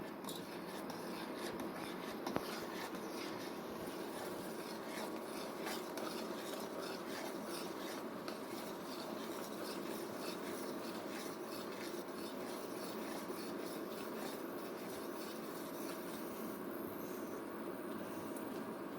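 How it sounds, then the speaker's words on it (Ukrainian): A spoon scrapes and swirls steadily around a pot as egg yolks are stirred into boiled milk for a Ukrainian snowball dessert. The rubbing is quiet, close and even for the whole stretch, with no talk. "Коли молочко закипіло, вливаємо жовтки і ретельно розмішуємо."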